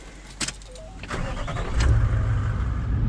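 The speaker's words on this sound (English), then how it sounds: "I'll get in here, get the car started." A click and a brief starter whir, then a car engine catches and settles into a steady low idle, on Fraser Island, Australia.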